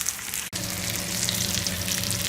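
Chapli kababs, Peshawari style, fry in a pan with a steady close sizzle and crackle throughout, broken by one brief dropout near the start.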